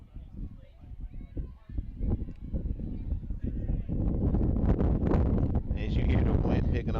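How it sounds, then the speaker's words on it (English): Gusty wind buffets the microphone at an outdoor college softball field, Iowa against Bucknell, a low steady rumble that swells louder in the later seconds beneath ongoing speech. "as you hear the wind picking up once again"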